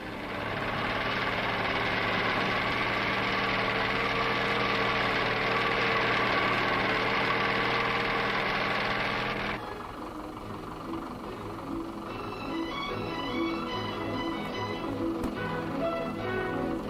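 A diesel Land Rover engine runs with a loud, steady rumble that drops to a lower, rougher idle partway through, with faint higher tones entering near the end.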